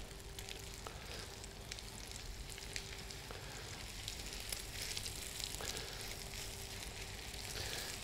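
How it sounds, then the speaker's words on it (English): Haddock fillets fry in foaming butter, making a steady, fairly quiet sizzle and crackle that runs evenly throughout with no talking. "we're going to place our fillets in to that foaming butter"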